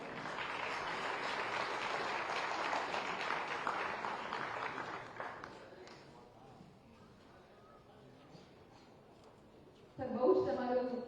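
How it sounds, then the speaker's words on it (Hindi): An audience at a security leadership summit launch in India applauds as the chief minister is welcomed with a bouquet, steady dense clapping for about five seconds that fades, then a voice speaks close to the mic. "जोरदार तालियां हो जाए।"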